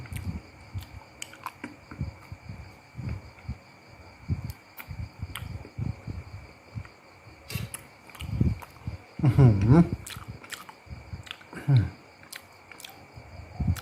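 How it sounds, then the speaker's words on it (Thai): Crunchy shrimp meat being eaten, served with a jaew dipping sauce. It gives a run of close, crisp chewing crunches in an irregular rhythm, with a few louder bites near the end and faint talk in the background. "อันนี้จะเป็นเนื้อกุ้ง มันจะขอลองกินหน่อย"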